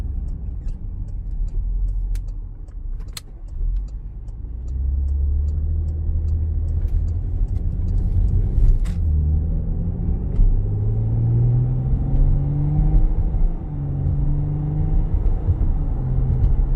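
A 2020 Porsche Cayenne S driving with its engine rumbling steadily, rising and dropping in pitch through smooth gear changes, heard from inside the cabin with no talking.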